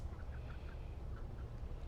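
Chickens in a large backyard run cluck softly and intermittently, a few short calls rising over a steady low rumble of outdoor background noise, fairly faint and distant, with no voices.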